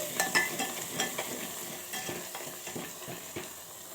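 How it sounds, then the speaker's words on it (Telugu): Chili powder and salt being stirred into a frying pan for a mutton curry, a soft repeated scraping and sizzling at close range with irregular stirring strokes and no talk. "ఇప్పుడు ఒకసారి చక్కగా కలిపేసుకొని"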